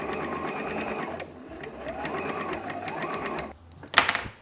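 A sewing machine runs steadily through the final seam of a dress, a continuous rapid stitching whir that pauses briefly mid-way, then ends with a short louder clatter.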